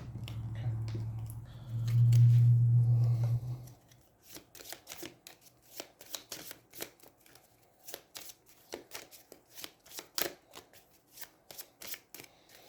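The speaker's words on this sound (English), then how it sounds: "Shuffles your deck." Deck of cards from the Aeons End board game being shuffled close up, a sequence of crisp riffling flutters and taps following a brief low hum at the start.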